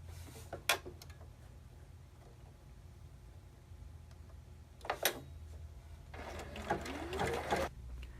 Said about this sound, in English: then I'll use that the 0 stitch length zigzag to help me secure this to the end also.